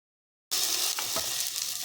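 Sooji and pea snack frying in oil on a pan, a bright steady sizzle that starts abruptly after a short silence, close and continuous, with a couple of soft scrapes partway through.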